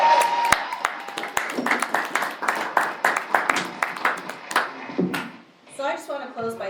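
A live audience at a city council retreat claps for the presenters: steady, dense applause that fades away, and a voice speaks over the end.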